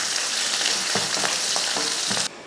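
Onion sizzles hard in hot oil with popped mustard seeds, curry leaves and dried red chillies, a steady loud frying hiss broken by a few soft stirring scrapes before it cuts off abruptly.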